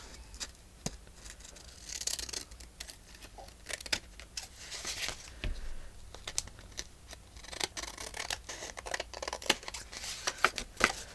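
Scissors snip through paper in a rapid series of close, crisp cuts with rustling paper between them, all fairly quiet and with no talking.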